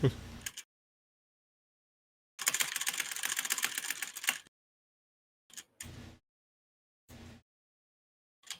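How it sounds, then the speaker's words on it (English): Bursts of rapid mechanical typewriter key clatter, one long run of dense clicking followed by several short separate flurries, fairly close and with no talking over it. "I didn't know you owned a typewriter."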